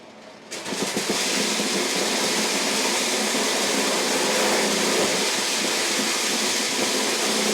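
A small corn sheller machine starts up and runs while shelling maize cobs, a loud continuous mechanical roar with a rattling, grinding texture that kicks in abruptly after a brief quieter moment and then holds steady.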